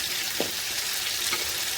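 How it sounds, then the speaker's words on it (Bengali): Fish frying in oil in a pan, a steady close sizzle with a couple of brief stirring or turning scrapes, no voices. "এই মাছ ভাজা হয়ে আসছে"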